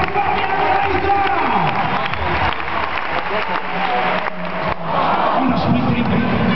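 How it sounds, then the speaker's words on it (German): A crowd at a basketball slam dunk contest in a Cologne league arena breaks into sustained applause and cheering, dense and continuous, with an announcer's voice over the noise. "bitte nochmal einen Riesenapplaus, Kölner Liga. Euer Applaus für Fabian Reiser."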